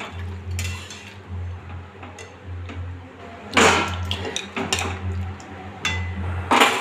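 Mutton being stirred in a pan, with a spatula clinking and scraping against the metal in irregular bursts over a low steady hum; no one speaks.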